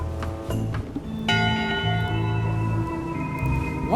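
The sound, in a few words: bell ringing once in video game Return to Monkey Island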